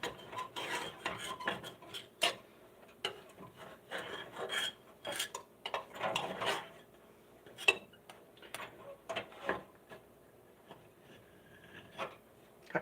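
Food being scraped and pried away from a pan while still warm, with short scratchy strokes and clinks of a utensil against the metal, irregular and close, fairly quiet and without talk.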